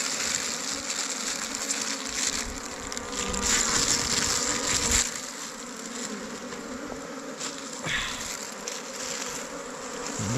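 Honeybees buzz around an opened wild hive, a dense, close, continuous drone with individual bees swelling louder as they fly past, and no voices.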